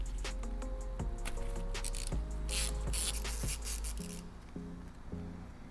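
A ratchet fitted with a 13mm socket clicks rapidly and close up as it backs out a bolt on an Aprilia RSV4 motorcycle's sprocket area, with steady pawl ticks and a few louder clacks.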